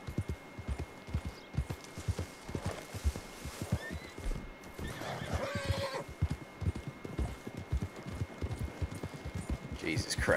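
A horse in the video game Red Dead Redemption 2 clops along with rhythmic hoofbeats and lets out a neigh, under someone talking throughout.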